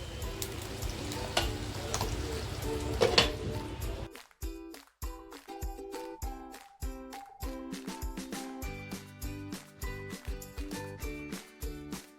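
Ghee hitting hot charcoal in a small bowl beside tandoori chicken tikka gives a brief sharp sizzle, then a string of quiet ticks and clinks, close and fairly soft.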